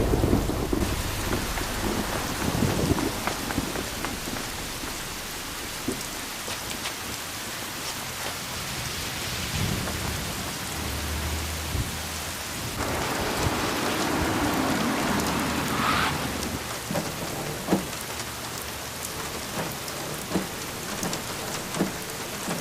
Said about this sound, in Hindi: सियोल का मौसम देख के ऐसा लगता है कि ये बारिश थमने नहीं वाली।